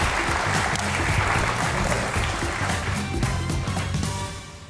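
Studio audience on a Geo News comedy talk show breaking into loud, dense applause that holds steady for several seconds before tapering off slightly at the end.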